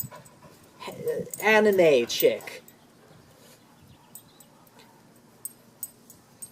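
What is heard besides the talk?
pet dog whimpering and panting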